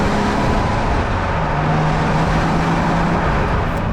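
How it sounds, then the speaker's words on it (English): A 2021 Lotus Evora GT with a supercharged Toyota-sourced 3.5-liter V6 gives a loud, steady, raw drone, with a faint whine threading through the dense roar for the whole stretch. "that raw engine sound and supercharger whine definitely makes you forget this engine came out of Toyota's family sedan"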